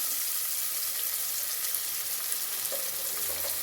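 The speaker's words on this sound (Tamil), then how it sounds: "வெங்காயம் வதங்கட்டும் நம்ம இந்த டைமில் உப்பு போடலாம்" Onions sauté in oil in a pot with a close, steady hiss of frying that holds at an even level throughout, with no voices.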